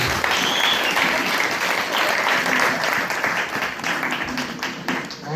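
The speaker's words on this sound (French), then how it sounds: "Applaudissez pour Jésus." A congregation at a church prophecy service claps and applauds for Jesus, a dense, continuous burst of many hands that holds steady and then eases slightly toward the end.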